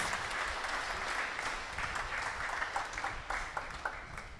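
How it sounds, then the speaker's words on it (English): A church congregation applauds the celebrating priest at a Holy Wednesday Mass, a steady, moderately distant clatter of many hands that begins to break into scattered individual claps as it trails off. "Let us give him a big round of applause."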